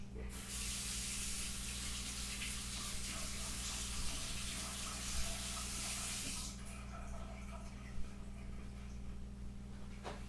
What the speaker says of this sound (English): let me wash my brush.